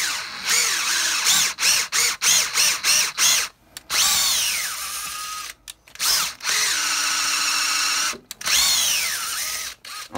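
Power drill with a bit boring material out of a Darth Maul lightsaber part, loud high whining bursts that start and stop repeatedly, some short and rhythmic, others held for a second or two, close up with no talk.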